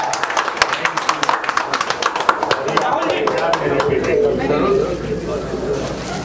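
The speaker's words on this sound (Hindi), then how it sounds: "फिर से एक बार जोरदार तालियां होनी चाहिए" Audience clapping at a Bhojpuri film launch ceremony, a burst of sharp, uneven claps that swells into denser applause while a voice speaks over it.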